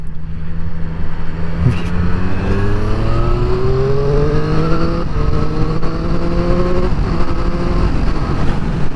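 Triumph Street Triple RS motorcycle accelerating hard through the gears with a quick shifter and blipper, loud and close, engine pitch climbing in rising sweeps with quick breaks at each upshift.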